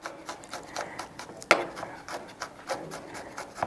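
A knife works through garlic on a cutting board, with a busy run of scraping, rubbing chops and one sharp knock of the blade, close by and steady throughout.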